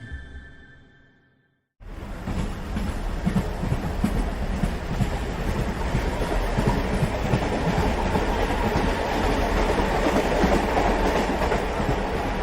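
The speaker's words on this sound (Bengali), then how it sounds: "ট্রেনটা যখন অবশেষে গড়াতে গড়াতে মেদিনীপুর স্টেশনে এসে থামল" Train rolling on rails as a story sound effect, starting suddenly after a quiet lead-in and continuing as a loud steady rumble with rhythmic clattering of wheels, no voices.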